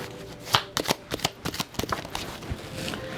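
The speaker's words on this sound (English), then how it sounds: "Let's get 3 more cards." Tarot cards being shuffled and drawn from a deck, with a quick run of crisp riffling flicks and taps, close and fairly loud, and no voices.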